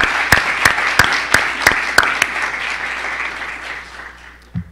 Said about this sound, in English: please join me in a round of applause for the panelists